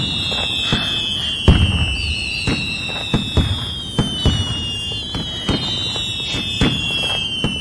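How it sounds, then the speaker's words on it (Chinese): Fireworks celebrating a marriage proposal go off outdoors on a cold night: sharp bangs and crackles burst irregularly over several whistling rockets that climb in pitch, loud and continuous throughout. "求婚就求婚，还放烟花"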